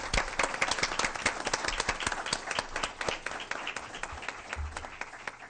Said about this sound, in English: Let's give each one of them a round of applause again.